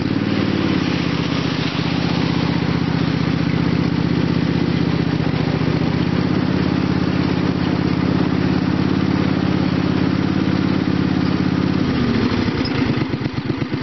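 Small engine on a Green Machine held on hand throttle near 3,800 RPM, a loud continuous buzzing drone running steadily throughout, dropping into a rougher, slower rhythm near the end.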